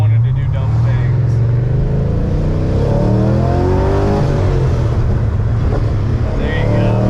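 An Infiniti G35 with a swapped-in aluminum 5.7 LS V8 accelerates in a loud, continuous rising engine roar heard from inside the car, with the pitch climbing through the run.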